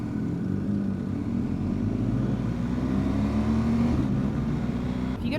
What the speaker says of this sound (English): I think you must have a special exhaust on it. It's got a right little rumble.